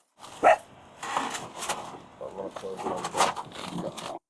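A dog gives a sharp bark near the start at a police scene, followed by more muffled canine sounds mixed with people talking nearby.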